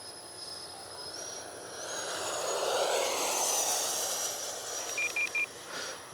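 FMS twin 70mm EDF Su-27 model jet in flight, a steady high ducted-fan whine that rises and swells as it passes, with a few brief chirps near the end.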